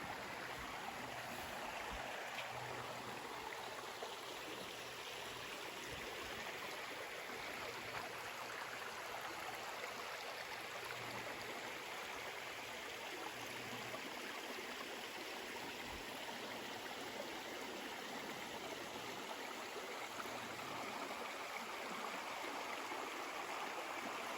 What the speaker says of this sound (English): I'm even right next to this little creek here.